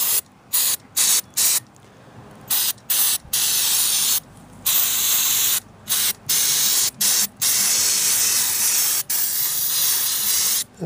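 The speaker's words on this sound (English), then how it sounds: "Give her a nice spray." Aerosol spray can hissing inside a 1947 Hallicrafters SX-43 radio during repair, loud close bursts of spray repeated in quick succession with brief gaps, some long sustained blasts.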